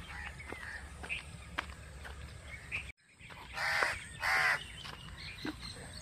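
Crows caw outdoors during their nesting season. Several harsh, loud caws stand out in the middle over a steady background of birds and ambient noise.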